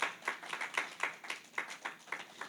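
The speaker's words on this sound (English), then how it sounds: "Shall we clap our hands for the Lord?" A church congregation claps their hands together at a worship service, roughly ten or more sharp claps in an uneven but steady rhythm, moderately loud and close, with no talking over them.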